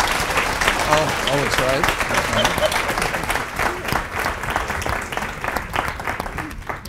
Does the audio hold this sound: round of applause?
yes